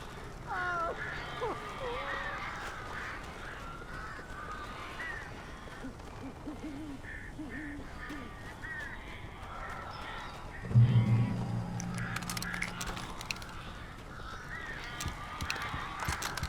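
Crows in the video game Alan Wake give scattered harsh caws over dark ambient game sound, with a voice speaking partway through and a louder low rumble joining later.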